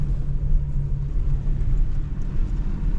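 A Toyota Tacoma rolls along a dirt trail on northern Arizona BLM land, with a steady low engine and road rumble and a constant hum filling the cabin throughout, and no voices.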